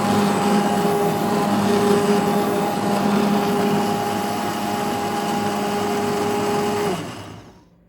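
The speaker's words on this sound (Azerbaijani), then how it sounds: "Kartof da pişenden sonra bütün erzakları birleştirip blenderdan keçirdirəm." A blender purées cooked pumpkin soup with potato and other vegetables, whirring as a loud, steady motor drone close up for about seven seconds before it winds down and stops.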